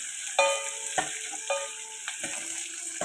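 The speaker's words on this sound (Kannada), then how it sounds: "ಈರುಳ್ಳಿ ಹಾಕ್ಕೊಂಡು ಕ್ಲೀನಾಗಿ ಫ್ರೈ ಮಾಡ್ಕೊಳ್ಳಿ" Onions frying with curry leaves in a pan for a village-style curd curry, a soft sizzle broken by a few sharp spatula stirs scraping the pan; no one talks.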